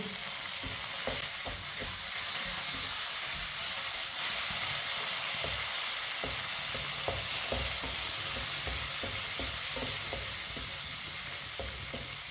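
Semolina halwa with chopped pistachios and raisins roasting in a pan, a continuous loud hiss and sizzle with soft repeated ticks of stirring throughout.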